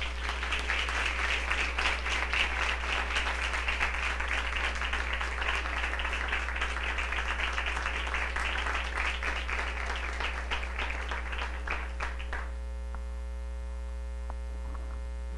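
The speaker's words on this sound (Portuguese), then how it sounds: "A palavra de Deus, uma salva de palmas" A church congregation at Mass applauds after the Gospel reading, a steady dense round of clapping for about twelve seconds that stops abruptly, all over a constant loud electrical hum.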